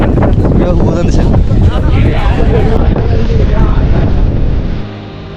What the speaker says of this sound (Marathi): खूप भयंकर हवा सुटलेली आहे